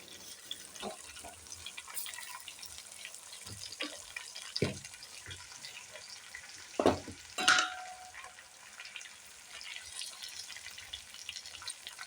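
Mint leaves dropped into a pan of cooked-down tomatoes, ginger and onion, giving a quiet steady sizzle with occasional scraping stirs and clinks of a spoon against the pan.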